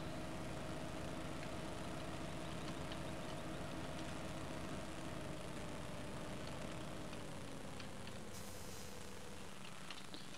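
A Steyr 4115 multi-purpose tractor idling in Farming Simulator 15, a faint steady low engine drone that holds evenly for ten seconds, its pitch dipping slightly near the end.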